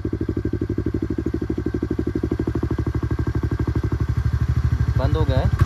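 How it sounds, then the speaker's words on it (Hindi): A TVS Ntorq 125 scooter runs with its valvetronic exhaust valve closed, a loud, close, steady rapid thumping idle with an even pulsing rhythm; a voice cuts in briefly near the end. "देख सकते हैं अभी एग्जॉस्ट काम नहीं कर रहा है, अभी खोलने के बाद फिर से काम करने लग जाएगी"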